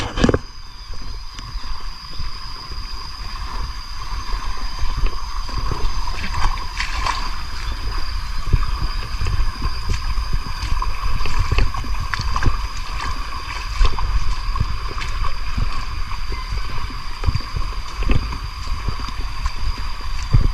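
A boat moves through floodwater as the level drops, with continuous churning and sloshing water and a steady motor-like drone for the whole stretch, and no talk.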